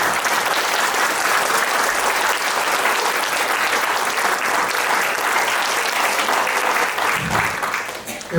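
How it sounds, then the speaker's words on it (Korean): An audience at a Gyeonggi Provincial Assembly policy forum on long-term care workers claps loudly to welcome a speaker to the stage. The dense, sustained applause continues for several seconds and then tapers off near the end. "박수로 환영합니다."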